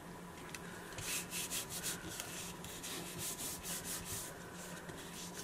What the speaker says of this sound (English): Kind of carefully rubbing it.